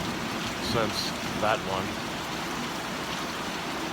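Gentle rain falls straight down in a steady, close, even hiss that fills the scene, while someone speaks briefly over it.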